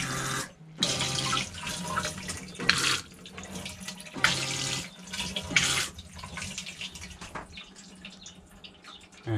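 Water runs through the flush pump of a Thetford C402 camper toilet inside a motorhome, coming in several loud bursts of rushing flow separated by brief pauses and quieter stretches.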